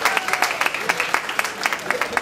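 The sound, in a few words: audience applause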